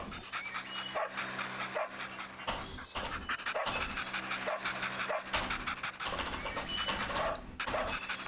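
A dog pants rhythmically with occasional barks in a CD-i miniature golf video game, steady game audio filling the background throughout with short pauses between bursts.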